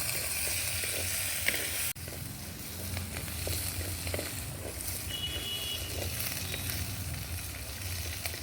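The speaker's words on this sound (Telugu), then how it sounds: "అల్లం, వెల్లుల్లి అన్నీ బాగా ఫ్రై చేసుకోవాలి" Ginger and garlic frying in a pan for a roti pachadi, a steady soft sizzle running throughout with faint stirring scrapes and a brief clatter near the start.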